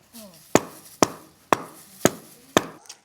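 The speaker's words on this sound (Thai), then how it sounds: "นี่สูตรการตอก" Ingredients pounded for a Thai dish seasoned with fish sauce, oyster sauce and seasoning powder: five sharp, evenly spaced thuds land about every half second, close and loud, with faint background noise between strikes.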